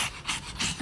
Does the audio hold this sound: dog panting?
yes